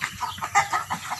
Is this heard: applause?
no